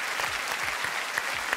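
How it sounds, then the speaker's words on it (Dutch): An audience at an improv comedy show claps steadily, a dense, even wash of applause that neither builds nor fades. "En we gaan Gwen met een hartelijk applaus weer terugvragen in de show."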